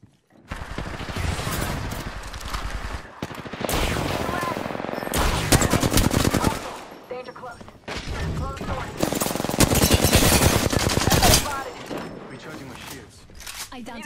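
Dense rapid gunfire rattles through an Apex Legends ranked match, long loud automatic bursts with short pauses, mixed with game voice lines.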